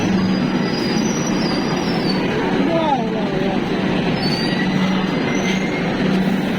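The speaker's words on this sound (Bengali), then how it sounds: "মেট্রো ঢোকার সাথে সাথে আমরা কিন্তু উঠে পড়েছিলাম" A Kolkata metro train pulls into an underground station with a loud rumbling roll and high, wavering wheel squeals that rise and fall across the passage, close and continuous.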